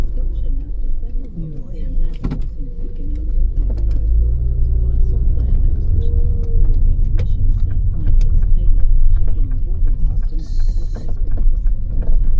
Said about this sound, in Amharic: ወደ ኋላ ሪቨርስ እያደረኩ ነው የምወጣው